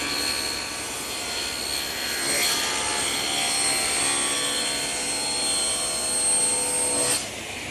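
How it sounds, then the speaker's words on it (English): A table saw rips a glued wood blank to 18 inches, giving a loud, steady whining drone with a sharper rise where the blade bites into the wood, ending as the cut finishes. "now I'm going to take it over to my table saw and rip it to 18 inches"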